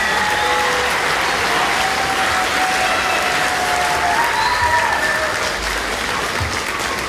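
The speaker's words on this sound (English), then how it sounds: "Let's give them a round of applause." Audience applause fills the hall after a high school band's Duncan Christmas concert. It is a steady, dense clapping from a large crowd that holds at an even loudness throughout.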